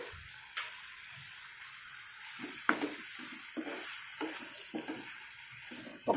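Oil crackles and sizzles in a pan as spices are tempered for a Malabar spinach chutney, with intermittent pops and scraping stirs at an uneven rhythm.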